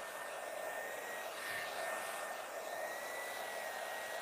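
A hair dryer blows steadily and close during a salon blowout, aimed at the roots of lifted hair, a constant loud whoosh with no talk.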